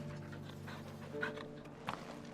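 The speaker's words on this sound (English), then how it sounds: "You can pat the dog more faster." A dog pants in the game Final Fantasy XVI, quick rhythmic breaths over a low ambient background, soft and close, with a faint whimper-like catch near the end.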